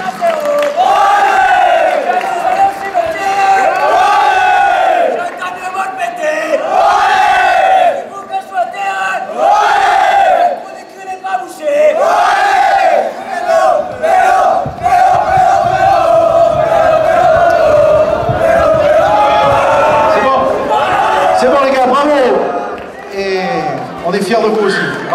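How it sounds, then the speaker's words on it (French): A crowd at an under-15 rugby tournament final in Marcq-en-Barœul cheers for Racing Plessis, many voices chanting in rhythmic unison with repeated rising-and-falling calls, loud and sustained, with shouts and bursts of noise between chants. "Un tonnerre d'applaudissements pour nos amis du Racing Plessis."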